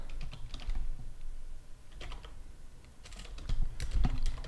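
Rapid keystrokes clatter on a computer keyboard in irregular bursts with brief pauses, close and clear, with no voices.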